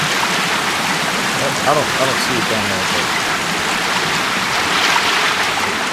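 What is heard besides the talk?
loud waterfall in the video game Sons of the Forest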